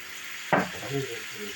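Tomatoes and spices frying in a pan, stirred with a sharp scrape at the start, then a low steady sizzle continues alone.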